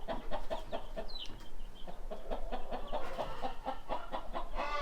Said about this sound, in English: This rooster here, not the size we want to keep.